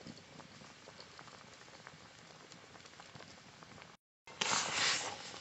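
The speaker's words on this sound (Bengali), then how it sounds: "এবার ভালো করে জাল দিয়ে নেব।" Cauliflower curry with potatoes bubbling in a pot, a steady soft simmering patter heard up close with no voices, briefly cut off near the end and then returning louder.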